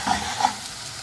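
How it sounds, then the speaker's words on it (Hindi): A finely chopped large onion frying in 3 to 4 tablespoons of oil for beef karahi, giving a steady, close sizzle with a couple of brief stirring bursts. "एक बड़े साइज का प्याज बारीक कटा हुआ, इसको हल्का सुनहरा फ्राई करना है"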